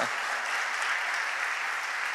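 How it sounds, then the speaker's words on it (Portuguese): Church congregation applauding after a worship song, a steady even wash of many hands clapping at moderate volume, without speech over it. "Você pode dar uma salva de palmas para esse louvor abençoado."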